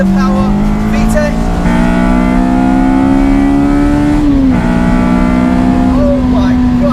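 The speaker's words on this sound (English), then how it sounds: "we're going to pop it into third gear. Here's the power VTEC." Honda Civic EP3 with a naturally aspirated high-output engine, loud and close in the cabin, revving hard in third gear with the pitch climbing steadily into VTEC, a brief dip at a shift, then pulling up again.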